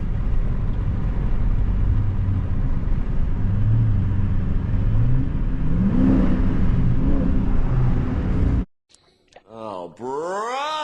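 Loud rumbling engine and road roar from a 2023 Dodge Charger Scat Pack Widebody accelerating hard on worn tires, heard from inside, building through a surge, then cutting to voices talking over quieter cabin noise.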